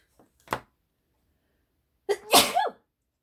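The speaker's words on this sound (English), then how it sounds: "I think I am going to sneeze." Two sneezes from one person indoors: a small soft one first, then after a pause a loud, full sneeze with a sharp burst and trailing voiced tail.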